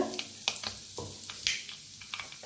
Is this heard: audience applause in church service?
no